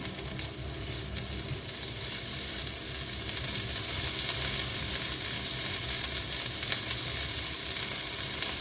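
A small dab of bagoong shrimp paste sizzles in a frying pan over browned aromatics, a steady close hiss of frying with faint stirring scrapes throughout and no voices.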